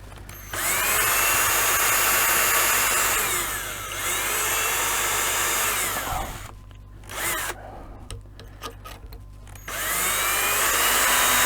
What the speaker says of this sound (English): Get 1 screw in here, and then that'll hold it, so I can get the others drilled.